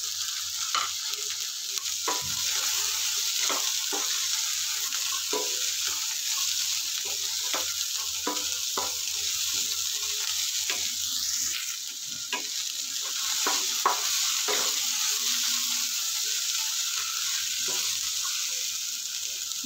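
Potato, carrot and capsicum fry with tomato and onion in a pan, giving a steady sizzle with repeated scraping stirs and spoon taps throughout, close and continuous with no talking.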